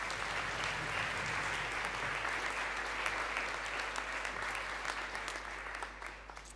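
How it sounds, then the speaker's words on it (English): Applause for a student at a school awards assembly, steady clapping from a seated crowd of students and parents in a hall, fairly even throughout and thinning a little toward the end. "can we just give her another round of applause?"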